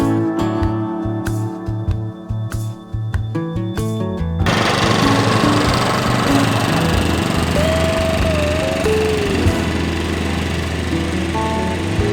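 A reel lawn mower cuts perennial ryegrass, first with rapid rhythmic clattering, then a dense, steady whirring rattle of the spinning blades. The sound is close and continuous, and there is no talking.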